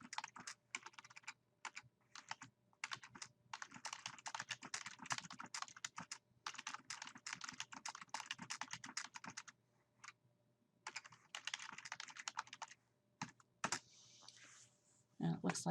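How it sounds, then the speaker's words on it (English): A computer keyboard typed on up close, with fast, dense bursts of key clicks broken by short pauses and a longer gap near the end, over a faint steady hum. "so I'm going to go ahead and type it in"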